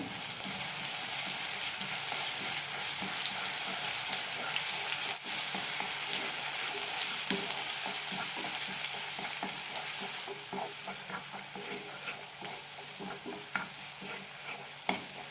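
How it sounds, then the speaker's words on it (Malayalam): Ground masala paste is sautéed in hot oil in a pan, giving a continuous close sizzle broken by scraping stirring strokes that grow more frequent toward the end. "നന്നായി വഴറ്റിയെടുക്കാം"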